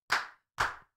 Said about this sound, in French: j'aimerais un tonnerre d'applaudissements pour Casu, les gars